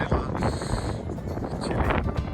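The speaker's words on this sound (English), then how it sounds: "As you can see, it's quite windy, and the sun is out." Steady wind buffets the microphone on an alpine mountain road near the Grossglockner on a sunny day, a continuous broad rushing roar with gusty swells lasting throughout.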